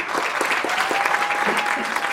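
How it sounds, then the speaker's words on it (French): Audience applause at a live talent-show taping in Tours, a dense steady wash of many hands clapping throughout, with a faint sustained tone running beneath. "Allez, on va applaudir un petit coup pour se faire un kiff."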